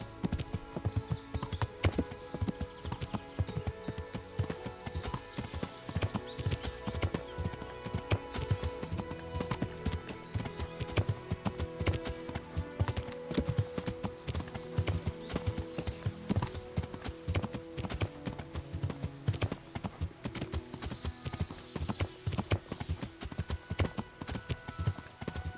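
Horse hooves clip-clopping in a steady walking rhythm in the medieval video game Kingdom Come: Deliverance, close and continuous throughout with faint background ambience.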